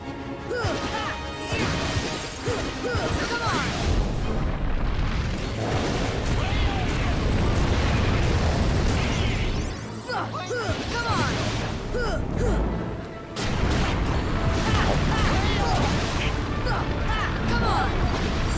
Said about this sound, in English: He can also make his volcano erupt to keep you away from him.